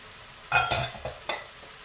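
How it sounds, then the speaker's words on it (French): Pork, cauliflower and cherry tomatoes get stirred inside a Cookeo multicooker: a few quick scraping, clinking strokes of a utensil against the pot, close and fairly quiet, spaced unevenly across under two seconds. "Je mélange tout ça."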